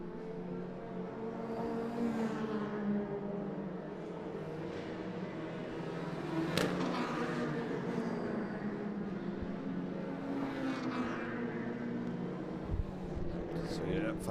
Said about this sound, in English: Cian Walsh, you can probably hear the sound effects as he blasts by in the background, leading the touring cars.